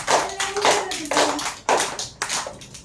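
Young children at an anganvadi preschool clap their hands together in short, loud bursts, several rounds of group applause with brief pauses between, nearby and close to the listener.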